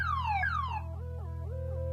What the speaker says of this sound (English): This new siren strobe light ought to get them off their butts the next time around.